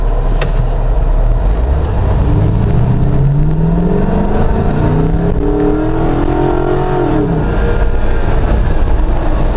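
A Jeep JK fitted with an LS 5.3 V8 and a 6L80 six-speed automatic accelerates from a stop, the engine pitch climbing through upshifts under heavy, loud road and wind noise, with no voices.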